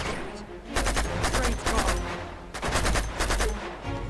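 Rapid automatic gunfire from an Uncharted 2 shootout, two long sustained bursts of close, loud rattling shots separated by a short pause, with little else in the mix.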